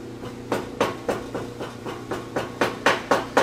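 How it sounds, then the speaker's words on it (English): Steady hammer strikes ramming down sand for sand casting, about a dozen evenly spaced sharp metallic blows, close and fairly loud, with no talking. "it really is just a hammer"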